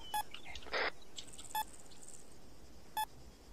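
An electronic detector device emits short, sharp beeps at irregular intervals, one longer tone among them, fairly faint against a quiet hiss in the background.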